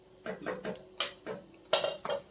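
A lid goes onto a pot of chicken stew with a handful of sharp metallic clanks and scrapes, close and fairly loud, spaced unevenly over a couple of seconds with no talking.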